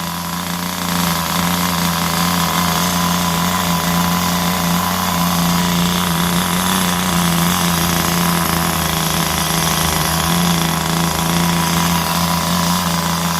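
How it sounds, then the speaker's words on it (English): Vintage Compagnucci nitro RC car engine with a plastic chassis idling steadily and loudly up close, a continuous buzzy drone with no talk. "There you go, guys. Got it to idle."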